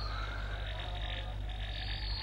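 Insect mating call from the film Phenomena (1985): a steady, close, buzzing chirr with a continuous high whine held throughout, loud and alone without talk.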